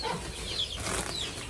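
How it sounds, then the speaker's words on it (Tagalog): Chickens flap their wings and cluck faintly while being fed, a soft, close flurry of feathers and fowl calls at low volume. "Ito ang mga manok ni Kalingap Awi."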